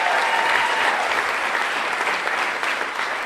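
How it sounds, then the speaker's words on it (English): Wedding guests clapping for the DJ at a reception, a steady dense round of applause from the room, close and continuous throughout. "Let's clap it up for the DJ."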